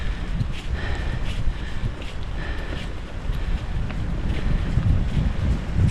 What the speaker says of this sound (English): The wind is pretty cold.